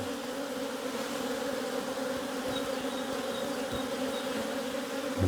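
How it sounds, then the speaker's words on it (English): A steady, dense buzz of many honeybees swarming around an open hive during a box swap, continuous and fairly close, with a brief thump near the end. "God, these bees are terrible"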